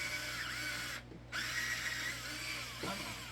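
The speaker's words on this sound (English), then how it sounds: "screwing a couple more holes on both pieces of wood" A power drill drives screws into wooden pieces during a panel installation, a close, steady whirring burst with a short pause around one second before the motor picks up again.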